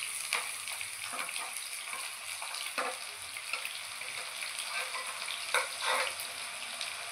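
Onions frying in a pan for a spicy chicken dry fry, a constant close sizzle with occasional scraping stirs and light clinks.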